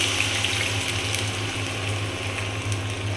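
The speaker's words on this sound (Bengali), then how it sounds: "পেঁয়াজ আর রসুন ভাজি করা হয়ে গিয়েছে আমি এখন টমেটো দিয়ে দিলাম" Tomatoes hit a pan of fried onion and garlic and sizzle in a steady, even hiss over a low hum. The sound holds close and constant without pauses.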